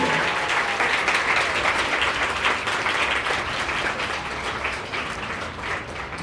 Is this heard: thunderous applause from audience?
yes